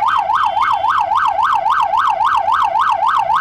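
An ambulance siren on an emergency run in Mexico City wails loud and close in a fast, steady up-and-down yelp that repeats without pause, with no voices over it.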